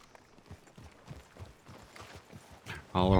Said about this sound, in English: All the horses just come trotting along.